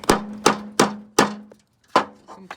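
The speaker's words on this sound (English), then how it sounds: "bang an 8mm socket over there with a hammer" Hammer blows driving an 8mm socket onto a rusted-solid screw on a Mercedes R107 rear bumper, about seven sharp metallic strikes, four evenly spaced, a pause, then a few more, loud and close with no talk.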